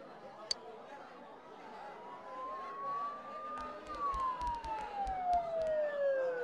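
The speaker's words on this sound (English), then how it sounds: "Don't those sirens sound really close?" A siren in the video game Persona 4 Golden wails in the distance, rising and falling slowly, under background noise with faint clicks and thumps.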